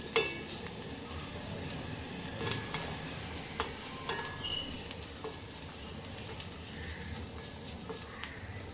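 Ingredients for crab curry sizzle softly in a hot pan while a spoon stirs, scraping the metal with a few sharp clinks and taps over a faint, steady frying hiss.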